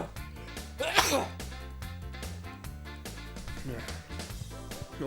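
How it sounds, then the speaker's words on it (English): A loud sneeze bursts out once in the PS1 game Monsters, Inc. Scare Island, amid the game's other voices and sounds, with a speaker talking over the scene. "Oh my incredibly loud sneezes."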